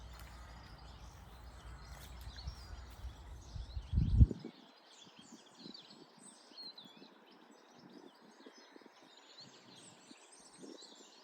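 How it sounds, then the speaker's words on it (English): Quiet outdoor ambience in an early spring graveyard at Edensor, England, with faint chirping birdsong scattered throughout, after a low rumbling noise stops early on. "I hope you can hear the bird song."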